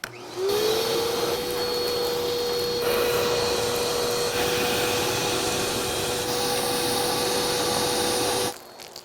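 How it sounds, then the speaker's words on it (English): A large vacuum cleaner runs steadily over carpet, a loud continuous whine with a sustained tone that starts abruptly and cuts off near the end, with no talking over it. "It's like an elephant vacuum."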